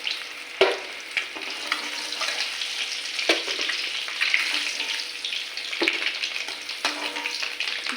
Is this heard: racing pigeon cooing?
no